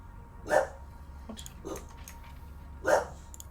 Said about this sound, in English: Ellie, shush. That's my dog.